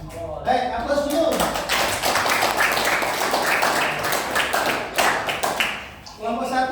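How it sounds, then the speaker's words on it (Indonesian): Class claps for a student group after a presentation, a sustained burst of many hands clapping close by, with a voice speaking briefly before and after. "Baik, aplaus dulu."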